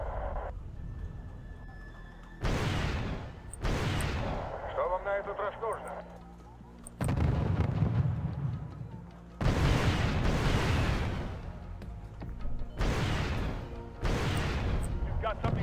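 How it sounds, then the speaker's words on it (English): Artillery barrages thundering in the strategy game Wargame: European Escalation, several broad loud booming salvos spaced across the stretch, with unit voice lines and other game audio between and over them. "Artillery adds dignity to what would otherwise be an ugly brawl."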